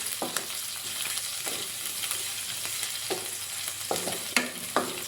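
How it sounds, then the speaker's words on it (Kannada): Chopped onions sizzle steadily in a hot pan for onion manchurian, while a spoon scrapes and stirs in irregular clanks close by. "ಇವಾಗ ಈರುಳ್ಳಿ ಹಾಕ್ಕೊಳ್ಳೋಣ. ಸ್ವಲ್ಪ ಮಿಕ್ಸ್ ಮಾಡ್ಕೊಳ್ಳೋಣ"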